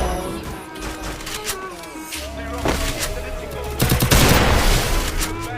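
Rapid Woodpecker rifle gunfire from the Free Fire battle game, with repeated loud cracking shots and bursts over game sound and background music.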